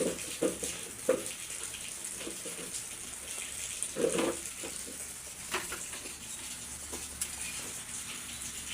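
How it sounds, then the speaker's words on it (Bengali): Broth is poured into a pot of browned koi fish: a steady watery pour with faint sizzling underneath, a few louder splashes and clinks, heard close up with no talking. "তো এখন আমি ঝোল দিয়ে দেবো।"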